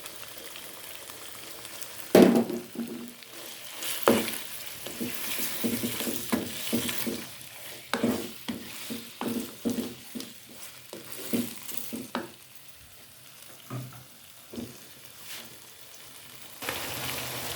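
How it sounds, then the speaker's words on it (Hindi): Meat frying in a pot with garlic ginger paste for chicken shahi korma, a steady sizzle broken by repeated stirring scrapes and clinks, close and continuous without talk. "अभी हमारा गोश्त हो गया फ्राई।"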